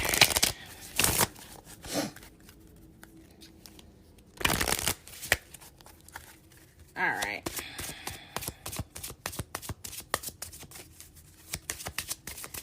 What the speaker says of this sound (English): let me shuffle this deck before I break out into tears